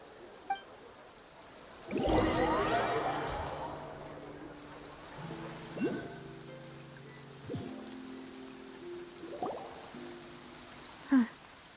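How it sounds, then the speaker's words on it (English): Steady rain falls in the Genshin Impact video game as a soft, continuous hiss beneath faint voices and gentle melodic tones. "It's been raining non-stop for a few days now."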